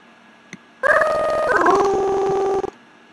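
A synthetic dog howl sound effect plays in music software after a faint click: one clear, wavering howl about two seconds long, alone in quiet.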